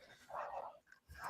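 A dog barking indoors during a rainy spell, giving a couple of short mid-pitched barks close by with a brief pause between them, heard alone without any talking.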